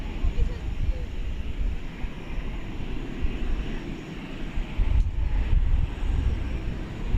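A Beech cargo plane taxiing at night at Dallas-Fort Worth Airport, its engine a steady droning rumble with broadband roar and some wind buffeting, continuous throughout at moderate distance.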